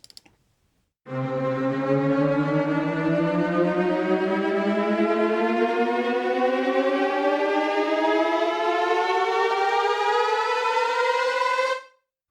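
A synth riser built in Logic Pro climbs steadily for about ten seconds, its pitch-bent layers sliding upward at slightly different rates to give a smudged, blurry tone, loud and sustained before cutting off.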